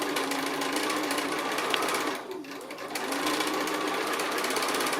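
A sewing machine stitches quilt blocks along a diagonal line, giving a steady, fast, close mechanical whir that briefly eases off for a moment before running on at full speed.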